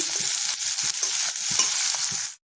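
Vegetables fry in a pan for avalakki, a loud continuous sizzle with soft stirring scrapes throughout, cutting off abruptly near the end.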